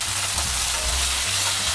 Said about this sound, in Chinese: 今天要煎汤圆，好，一起来哦，芝麻口味的